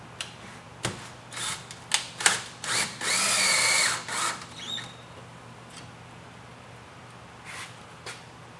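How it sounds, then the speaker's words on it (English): A power drill drives a screw while a rolling shutter is installed, first in short bursts, then in one sustained whir lasting about a second, followed by a few faint clicks, close and loud. "we're now going to run in our first screw"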